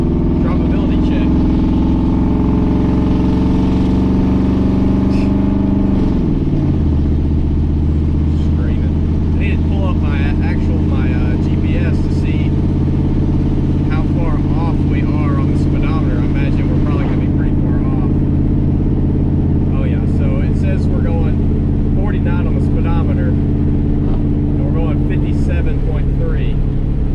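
A Chevrolet Trail Boss truck on aggressive mud tires cruises at 55 mph, a loud, constant low road-and-engine drone heard from inside the cab with a brief shift in pitch early on; a voice talks at times.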